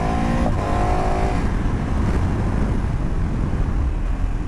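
KTM 1290 Adventure S motorcycle accelerating to rejoin a motorway, a loud close engine roar with rising rev tones at the start that fade into a dense rushing wind and road noise.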